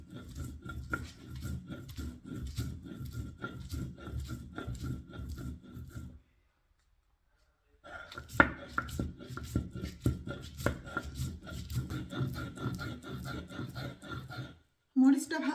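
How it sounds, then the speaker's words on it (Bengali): Dried chili crushed on a stone slab with a grinding stone in a home kitchen, a steady rhythmic scraping and rubbing that stops for a short pause and then resumes, with a sharp knock near the end. "তা আমি এখন শুকনা মরিচটাকে ভালো করে বেটে নিব।"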